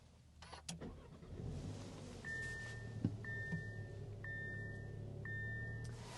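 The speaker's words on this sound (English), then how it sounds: "Let's fire it up with the standard push button start." A 2025 Audi Q3 starts with a push button, its engine catching and settling into a low, steady idle, with a few electronic chimes sounding alongside.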